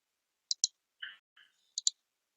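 A computer mouse gives several crisp, close clicks in quick pairs, with short soft scraping shuffles between them in a quiet room.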